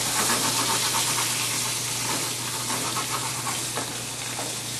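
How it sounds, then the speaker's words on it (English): Heavily salted short ribs sear in a hot pan, giving a steady, dense sizzle that holds at an even level throughout, close and without speech. "let those sear for a couple minutes on each side"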